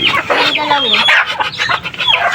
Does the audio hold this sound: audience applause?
no